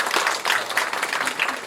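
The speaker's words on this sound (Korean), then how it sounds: "박수 오장 부탁드립니다" Applause from an audience at a provincial government briefing, a steady dense patter of clapping heard close and fairly loud, with no talk over it.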